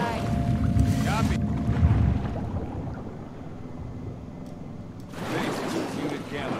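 A boat engine rumbles steadily in The Last of Us 2 video game, joined by wind and water wash, with a quieter stretch in the middle before the noise swells again.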